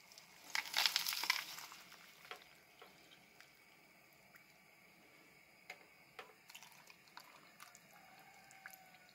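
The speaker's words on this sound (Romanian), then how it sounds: "Acum pun și apă." Water is poured into a jar of cucumber pickles in a home kitchen, a loud gushing burst at first, then faint scattered drips and small knocks in quiet surroundings.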